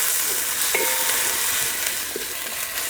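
Ginger garlic paste sizzles and fries with mint and coriander in a pan for biryani, a steady close hiss broken by a few light stirring scrapes.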